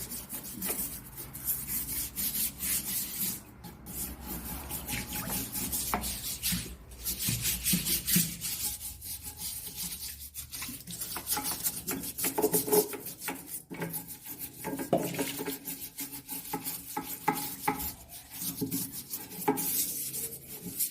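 Steady, rough rasping and rubbing of a surface being scrubbed and washed after soaking in an enzyme cleaning liquid, continuous and fairly loud throughout with occasional sharper scrapes and no talking.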